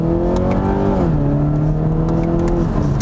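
A 2022 Toyota Supra's 2.0-liter, 255-horsepower engine hums steadily and climbs in pitch, eases briefly, then builds again, loud and close without any voices.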